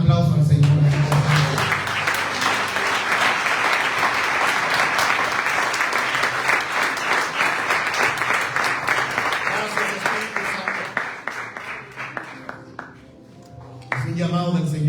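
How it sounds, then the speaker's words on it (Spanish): A church congregation claps during a Sunday service, sustained rhythmic applause with distinct individual claps that gradually thins out near the end before voices return. "¿Cuántos pueden dar un aplauso al Señor?"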